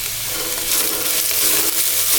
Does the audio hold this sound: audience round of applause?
no